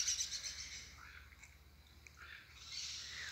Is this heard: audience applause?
no